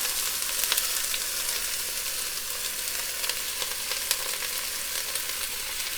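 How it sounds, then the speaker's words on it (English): Onions sizzle in a hot pot with a little olive oil, a loud, dense, continuous frying hiss with small crackling pops throughout, close and steady with no voices. "I'm going to add all of these onions"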